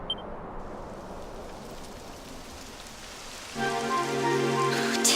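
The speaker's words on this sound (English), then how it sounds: "It would have to go and start raining, wouldn't it?" Steady rain in Dragon Quest XI patters throughout, then swells louder near the end as a tonal, music-like hum rises beneath it.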